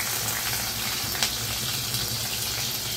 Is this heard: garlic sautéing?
yes